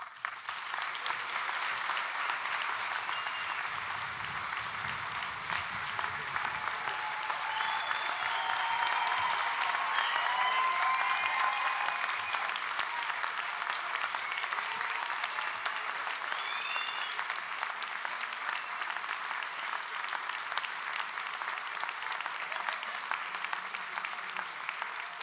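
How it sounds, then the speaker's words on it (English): Sustained applause from a large audience at a university graduation ceremony, a steady dense clatter of many hands clapping for the whole stretch, even in loudness and heard from within the hall. "Lots of applause."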